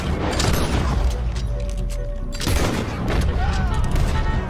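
Gunshots in Red Dead Redemption 2, a burst of loud booming shots and mechanical clatter amid chaotic noise, with a voice talking over parts of it.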